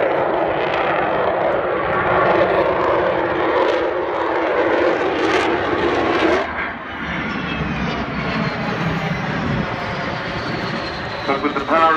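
Avro Vulcan XH558 bomber accelerating during an airshow display, its jet engines producing a loud, sustained roar that shifts in tone midway as the aircraft passes, with a commentator talking over the noise.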